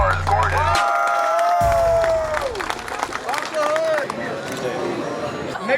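A crowd at a downtown car meet cheers and claps for a car, with whoops and scattered applause mixed with loud, overlapping voices and chatter.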